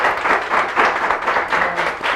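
Audience applauding at a certificate presentation during a tax agency forum on new proposals, a brief, steady and fairly close round of clapping.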